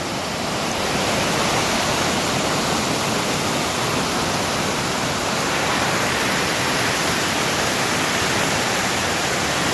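A large mountain waterfall rushes steadily on a hike near Crested Butte, Colorado, a loud, unbroken roar of falling water filling the whole scene with no pauses.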